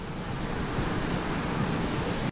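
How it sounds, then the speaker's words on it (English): River water rushes steadily beneath a mill water wheel that grinds wheat into flour in the Basque Country, a continuous broadband roar heard close and loud without any talk. "Here you see the water wheel, which is turned by the river flowing below."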